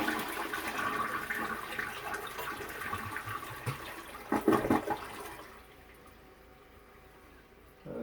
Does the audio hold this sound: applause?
no